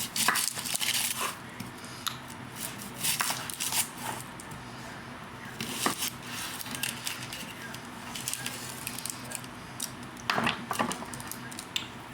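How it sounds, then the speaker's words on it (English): Onion and garlic chopped on a board for a family supper, giving soft irregular knife taps and squishy cuts close by, with scattered louder strikes over a steady low room hum. "And now I'm going to chop my onion, then my garlic."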